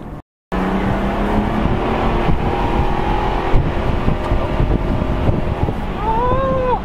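A lowered Mercedes-Benz W210 on Vogtland springs rolls slowly through a neighborhood, its engine a steady low drone with wind noise on the microphone and a faint rising whine near the end.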